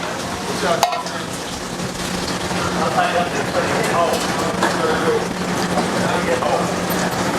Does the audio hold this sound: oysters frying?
yes